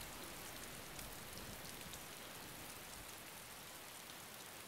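Steady rain falls in the DayZ video game world, a dense, even hiss of drops that holds at the same level throughout, with no voices over it.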